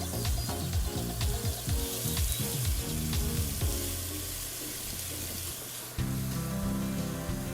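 Pesto shrimp sizzle loudly on a grill, a close, continuous frying hiss with brief bursts and knocks as the pieces are laid down, and no talk.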